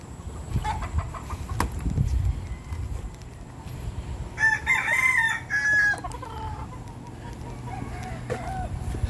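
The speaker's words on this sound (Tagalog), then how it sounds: "Ay, may mga manok pa rin dyan talaga." Chickens cluck and a rooster crows once, clearly and fairly close, at the barracks of a construction site, with low background rumble and scattered sounds around them.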